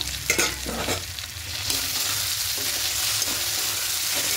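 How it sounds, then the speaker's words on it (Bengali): Potatoes sautéed with spice paste in a pan for a vegetarian malai potol dish: loud continuous sizzling with rhythmic stirring and scraping strokes early on, then a steady hiss. "আলুগুলো দিয়ে আবার খুব ভালো করে কষিয়ে নেব।"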